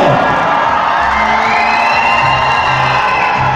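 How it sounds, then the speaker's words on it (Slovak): A crowd at a book launch shouts and cheers in a loud, sustained roar that barely varies over a few seconds, with whoops mixed into the wash of voices. "A všetci kričíme."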